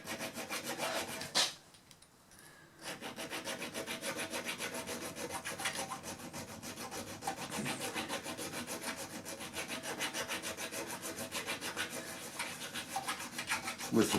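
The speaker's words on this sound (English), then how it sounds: "initially I can tell if I'm filing evenly" A metal file rasps back and forth across the blued steel sight base of a Winchester Model 1885 rifle resting on a cloth, in quick, even repeated strokes with a brief pause early on.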